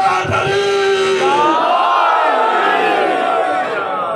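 A large crowd at a Muharram majlis chants a religious slogan in unison, a loud, sustained roar of many voices rising and falling together.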